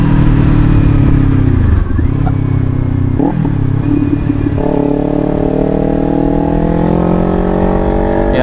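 A Kawasaki Ninja 500 parallel-twin engine revs loud and close, dipping briefly then climbing steadily in pitch as it pulls through the gears, a continuous buzzing drone throughout.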